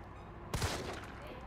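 A sudden loud burst of gunfire from the video game Resident Evil 3 cuts in halfway through after near silence, then rings and decays over the remaining second.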